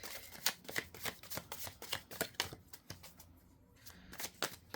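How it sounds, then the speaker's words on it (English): Rapid riffling of a card deck, repeated in several quick bursts with short pauses between, close and crisp. "I'm going to shuffle this a couple of times."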